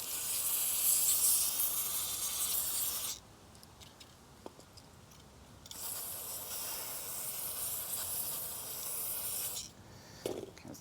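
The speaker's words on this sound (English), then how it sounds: "And I'll use some brake cleaner." Brake cleaner aerosol sprayed into a trailer wheel bearing hub to flush out old grease: two long, loud hissing bursts of about three and four seconds, separated by a pause with faint handling noises, then a short final spurt.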